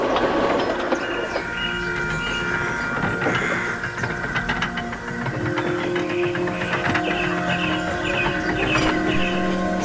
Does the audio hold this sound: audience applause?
no